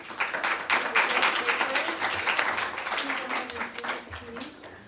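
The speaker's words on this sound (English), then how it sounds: "let's give a round of applause to all the presenters" Symposium audience applauding its presenters, a crowd's clapping swelling at once and holding steady before thinning out toward the end.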